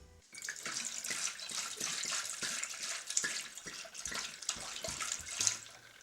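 Tap water runs steadily while bottles are washed by hand in a sink, a continuous splashing hiss with small clinks and knocks throughout, close and moderately loud with no talk.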